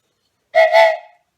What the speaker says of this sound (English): Cool whistle, huh?